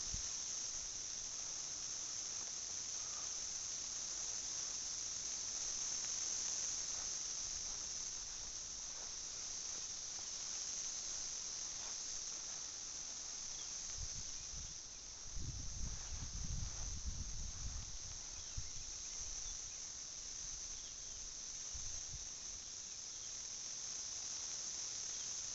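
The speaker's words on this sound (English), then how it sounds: "I hope this microphone is picking them up in the background." Seventeen-year cicadas chorus from trees as a constant, dense high-pitched drone that holds steady throughout, with a brief low rustle or handling noise partway through and no talking.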